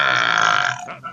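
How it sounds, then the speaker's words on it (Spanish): A single loud, drawn-out human burp, close and raspy, rumbles for most of a second before trailing off into a short breathy tail. "Extremadamente modesto el eructo"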